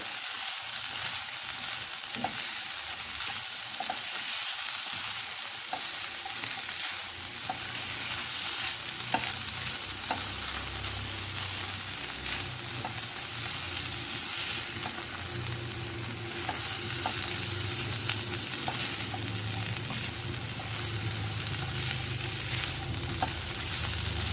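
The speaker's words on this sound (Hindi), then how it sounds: "तो देखिए व्यूअर्स, हमारी 2 मिनट हो गया है भूनते हुए" Spring roll filling fries in a pan on a small stove over a medium flame, with a steady, close sizzle throughout and light, regular clicks of a spoon stirring against the pan.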